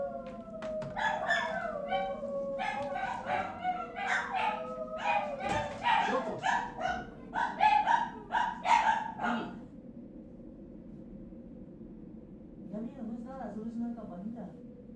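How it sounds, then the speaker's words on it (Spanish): Dogs howl and yelp in a drawn-out, wavering chorus, stirred by a small hand bell carried past, with a brief second burst of howling after a pause. "Alguien pasa con una campanita y por algún motivo ellos se ponen a aullar con la campanita."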